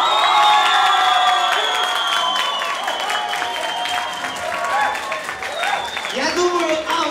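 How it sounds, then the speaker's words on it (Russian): A party crowd applauds and cheers for team B at a Crimean and Caucasian themed party, dense clapping mixed with shouts and whoops, lively and sustained, with voices calling out over the noise. "И, конечно же, аплодисменты команде Б."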